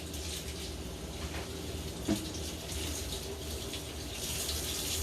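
Tap water runs steadily into a sink while a can lid is washed, a close, even gush with a small clink partway through.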